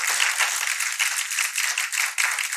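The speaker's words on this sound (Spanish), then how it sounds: "Denle un fuerte aplauso." A church congregation at a Spanish-language Sunday service applauds the prayer warriors, a bright, sustained wash of many hands clapping without pause, fairly close and even throughout.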